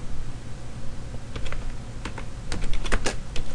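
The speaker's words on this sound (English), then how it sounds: "at the command prompt, type net sh" A command is typed on a computer keyboard at the command prompt: clusters of crisp key clicks over a steady background hum, quickening toward the end, close and alone.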